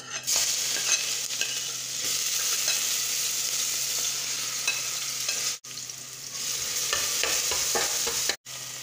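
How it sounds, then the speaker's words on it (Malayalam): Crushed garlic, ginger and green chili fry in hot ghee for a beef biryani, giving a steady, close sizzle with stirring scrapes throughout, broken by two brief silent gaps. "ഇത് നമുക്ക് ഈ നെയ്ക്കകത്തോട്ടിട്ട് നന്നായിട്ട് മുപ്പിച്ചെടുക്കാം"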